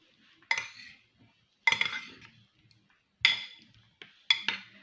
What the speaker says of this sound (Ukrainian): Я це все перемішаю, так, перемішаю.